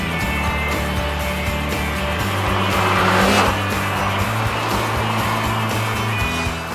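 A Ford Fiesta hatchback driven briskly on a twisty road, its engine droning steadily and rising in pitch as it accelerates, with a loud swelling surge midway and faint tyre noise underneath.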